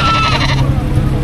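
Goats bleat loudly and close at a livestock market in Padre Garcia, Batangas, a short wavering call with more animals behind it.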